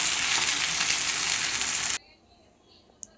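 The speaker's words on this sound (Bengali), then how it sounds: "দিয়ে ভালো করে এবার এটা আমি ভালো করে নেড়ে নেব।" Soybean chunks and prawns frying in spice paste, stirred in a pan, give a loud, dense sizzle for about two seconds that cuts off abruptly, leaving near silence and one faint click.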